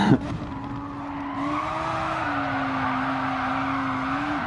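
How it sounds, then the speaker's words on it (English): Race car in a racing video game sliding sideways in a drift, a steady engine drone with a sustained tire squeal running throughout, loud and close, with no talk. "I can drift it quite nicely, but I can't drive it nicely."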